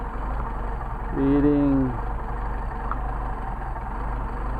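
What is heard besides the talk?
Mercedes 190SL engine idling with Solex carburetors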